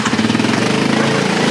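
A runaway golf cart's engine roars continuously at high revs with its throttle stuck, a loud, steady, rattling drone with no letup.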